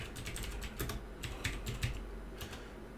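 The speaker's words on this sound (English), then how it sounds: "We'll actually type in crankshaft pulley." Keys clatter on a computer keyboard in quick, uneven bursts of clicks with short pauses between them, close and moderately loud, with no voices.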